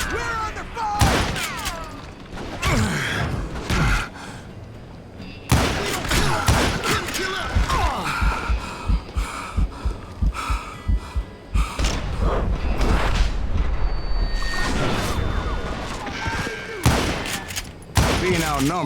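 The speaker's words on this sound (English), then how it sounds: "Who's shooting? We're under fire!" Heavy gunfire fills a Wild West shootout in the video game Call of Juarez: Gunslinger. Loud, close shots come in bursts and single blasts alongside thuds, with voices talking between the volleys.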